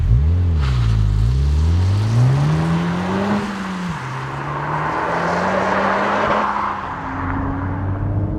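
A Honda Civic Type R Sport Line in Type R mode drives along a British road, its engine note rising and falling through gear changes under steady road and tyre roar, with no voices.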